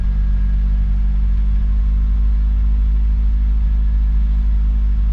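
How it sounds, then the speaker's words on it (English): An Isuzu NPR truck engine rumbling low and steady while descending a snowy hill without braking, a constant loud drone with a deep hum and no change in pace. "Letting the engine do its work, doing its work."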